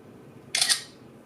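Phone camera shutter firing once for a selfie on a Letv X522, a short crisp double-click burst, close and clear over a quiet background.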